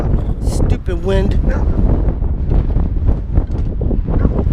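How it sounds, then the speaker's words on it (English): Strong outdoor wind buffets the microphone in steady, loud gusts throughout, with a voice speaking under the roar. "Stupid wind."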